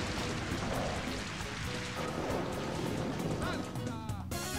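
Rain Dance move rain effect from Pokemon Colosseum, a dense steady hiss of falling rain that runs throughout at moderate level, with game music and other effects mixed underneath and a brief break near the end.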